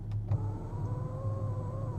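Electric sunroof on a Toyota Supra closing inside the car: a steady, close motor whine with a low hum running evenly for about two seconds after a small click at the start, no talking.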